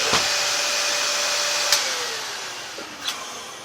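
Dyson DC65 Animal vacuum cleaner running steadily while cleaning a floor mat, a continuous close whirring hiss with a few brief clicks and bumps.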